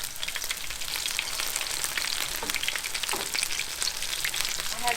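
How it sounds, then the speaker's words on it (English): Potato and conch fritters sizzle steadily in a hot pan, a dense, even crackle of frying oil that stays loud and close throughout with no voices. "I'm doing the conch fritters. Flipping them over."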